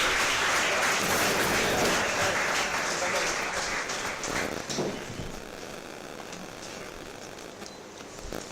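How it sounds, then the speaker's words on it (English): Students applaud as two alumni are invited onto the dais at a PGDM inauguration, with dense, sustained clapping that eases slightly in the second half, and faint voices beneath. "Huge round of applause"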